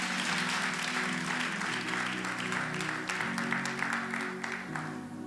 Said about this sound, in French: Est-ce qu'on peut donner un applaudissement au Seigneur?